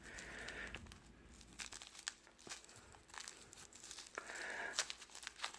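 Crinkly plastic wrapping is peeled and torn off a bath bomb close up, giving irregular rustling and crackling bursts at low volume, with no talk.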